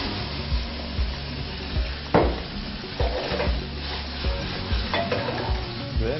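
Prosciutto fries in a pan as cognac goes in, giving a loud, steady sizzle with a utensil stirring and scraping throughout, no speech.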